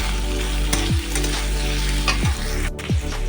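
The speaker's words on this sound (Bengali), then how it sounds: "এই যে আদা বাটাটা আমি দিয়ে দিলাম, এটা এখন ভালো করে একটু নেড়ে নিতে হবে" Banana fried with ginger paste in a pan, a loud continuous sizzle with several distinct scraping stir strokes, close by and without speech.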